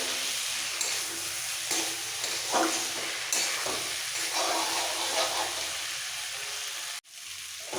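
Pointed gourd and potatoes sautéed with spices in a pan give a steady, close sizzle with scraping stirs throughout, cutting off abruptly near the end.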